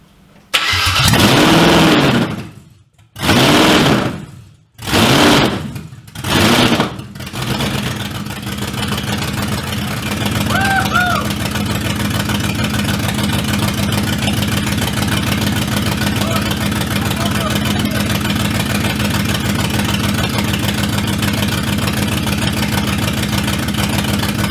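Porsche Cayman fitted with a V8 engine, heard through several loud cranking bursts that stop and restart before it catches and settles into a steady, close, rumbling idle for the remainder.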